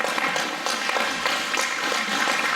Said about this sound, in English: let's give him a round of applause for Mr. Bradley Pierce.